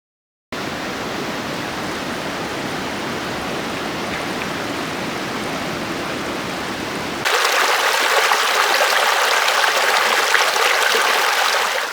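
The Esgueva river flows near its source as a steady, loud rushing wash of water, continuous throughout and growing brighter and more hissing partway through.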